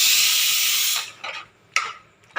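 A pressure cooker on a home stove, cooking chicken, lets out a steady loud hiss of steam that cuts off abruptly, followed by a few shorter bursts of venting.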